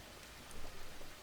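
Steady rain falling in the farming video game Farmer's Dynasty, a soft, even hiss of drops throughout with no talking.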